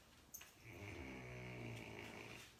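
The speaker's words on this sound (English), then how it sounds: "That's Thimble snoring" A sleeping puppy snores steadily through one long, low breath, soft and close by, with no voices over it.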